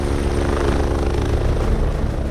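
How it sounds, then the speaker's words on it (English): An air ambulance helicopter comes in to land at a sports oval near a motorbike accident site, its rotor and engine roar loud, close and continuous throughout. "The helicopter has been cleared for landing at a local oval near the accident site."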